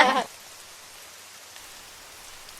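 Cartoon rain falls as a soft, even patter, faint and steady after a short burst of voice at the very start.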